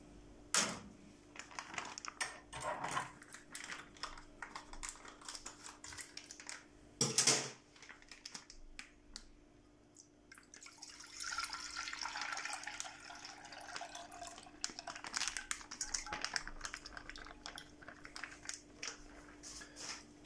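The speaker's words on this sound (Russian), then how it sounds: "Сначала наливаем молоко." Milk poured into a pot for semolina porridge in a home kitchen, a soft liquid splashing and trickling that swells in the middle and runs for several seconds, with sharp clicks and clatter from the pot and utensils around it and no talk.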